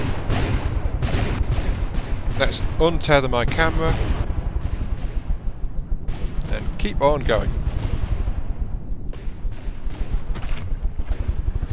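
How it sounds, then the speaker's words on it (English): High-explosive cannons fire in rapid, rhythmic volleys aboard a vessel in the video game From the Depths, loud and continuous booms with someone speaking over them. "there go the cannons. My cannons are firing. It's got high explosive cannons as well"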